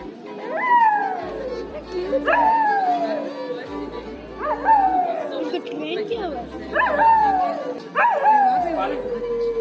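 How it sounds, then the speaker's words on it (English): Dog howling along with a street performer's music in a town street, five drawn-out rising-and-falling howls at a steady pace, loud and close over the accompaniment. "we also found this street performer whose dog was also singing along"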